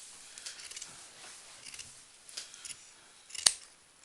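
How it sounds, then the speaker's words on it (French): Scissors trimming a fabric belt on a handmade Christmas decoration, a run of light snipping cuts close by, ending in one sharper, louder snip. "donne-moi les ciseaux que je rectifie ça"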